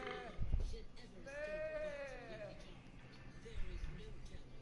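Sheep bleat in a field in the medieval game Kingdom Come: Deliverance, one long wavering bleat clearly standing out over low background sound, with a voice talking around it.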